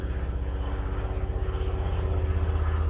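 A helicopter flies over the São Paulo coastline, its rotor making a continuous low, pulsing thump with a rough engine drone, steady and fairly loud throughout.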